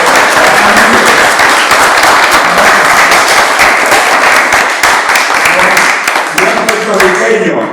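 A crowd applauds to welcome the pianist of El Gran Combo at a public talk, a loud, dense, sustained wash of clapping that carries on without a break and thins slightly near the end.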